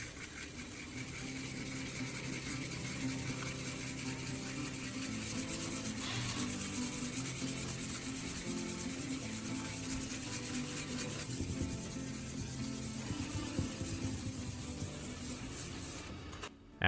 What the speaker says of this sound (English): Keep spraying water on the surface while sanding